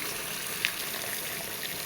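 Boiling water pouring over chicken in a pot while making kabsa with Egyptian rice, a steady hissing, splashing rush that holds even and close throughout with one brief sharper splash.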